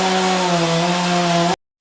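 A superb lyrebird mimics a chainsaw with a steady, buzzing whine that holds for about a second and a half, loud and alone, then cuts off abruptly.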